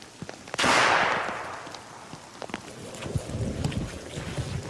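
A single sharp gunshot from a set-trigger rifle cracks out outdoors in the wilderness and rolls away in a long fading echo, followed by faint rustling and wind.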